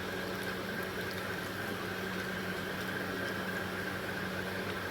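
Fish curry with tamarind water added simmers in a pan, giving a soft, steady bubbling hiss that stays constant and faint, with no voices.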